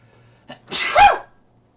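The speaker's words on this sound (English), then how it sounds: "I sneezed" One sharp sneeze bursts out close to the microphone after a brief inhaled catch, then quickly dies away into silence.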